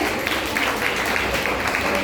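Audience applause at a Hindi Day school celebration welcoming a poet, a steady dense wash of clapping from a crowd, moderately loud and continuous throughout.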